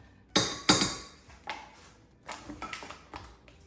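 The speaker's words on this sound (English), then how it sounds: "scraping bottom here" A spoon scrapes and clinks against the bottom of a cooking pot of macaroni and cheese, with two sharp metallic strikes followed by several lighter scrapes and taps, close and alone.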